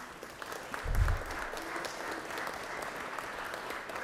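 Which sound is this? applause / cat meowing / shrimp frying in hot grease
applause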